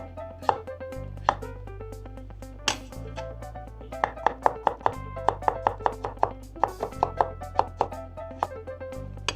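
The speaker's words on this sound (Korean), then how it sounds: "당근도 반 잘라가지고 그냥 이렇게 좀 썰어줄게요. 좀 얇게 썰게요." A knife thinly slices a halved carrot on a cutting board, giving sharp, close, steady chops that speed up into a quick rhythmic run, with low background hum and no talking.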